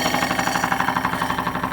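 A PM Research No. 3 steam engine fed by a Roundhouse boiler runs steadily, chuffing and clattering in a fast, even rhythm of about seven beats per second, loud and close with a mechanical whine above, no voices.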